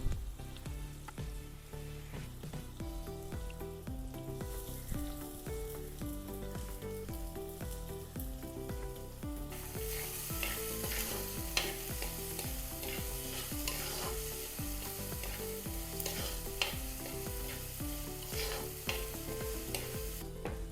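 A tomato shrimp curry base with kudampuli, Kerala style, frying and being stirred in the pan: a steady sizzle with clinks and scrapes of stirring, heard under background music throughout.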